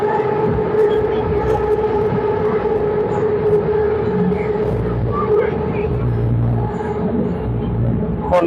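A train rumbles past at the Pathumwan intersection near Siam in Bangkok, a loud, steady roar of wheels and machinery, with faint voices murmuring beneath the constant noise.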